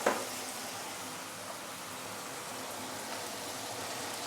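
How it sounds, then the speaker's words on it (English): Tomato and tomato sauce sauté in a pan with a steady, soft, hissing sizzle that carries on evenly throughout, starting with a brief louder crackle. "Sauteed tomato and tomato sauce first."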